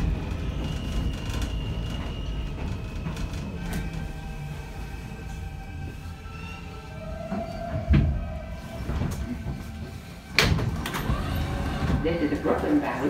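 An R160 subway train on the F line, running Brooklyn-bound toward Coney Island on a ride without air conditioning, gives a steady low rumble with intermittent clanks and screeches, heard from inside the car.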